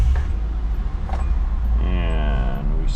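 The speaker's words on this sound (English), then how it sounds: "Starting the engine." A Hyundai Santa Fe engine starts and settles into a steady low rumble, with a rising tonal whine partway through, heard close up and without talk.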